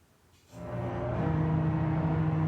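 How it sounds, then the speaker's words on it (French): A heavy landing barge engine starts up and swells into a deafening, steady roar with a deep droning hum, close and sustained. "Le bruit assourdissant du moteur"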